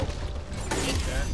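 Weapon reloading in the zombie shooter Back 4 Blood: a short run of mechanical clicks and a ratcheting clack, set close and loud within dense game noise and background rumble.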